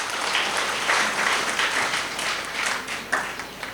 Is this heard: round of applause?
yes